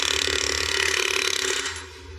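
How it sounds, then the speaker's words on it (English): A Flemington power hammer shapes sheet metal in a car fabrication shop, making a loud, continuous, rapid mechanical hammering that runs steadily and then eases slightly toward the end, with no voices. "So after running the Flemington hammer,"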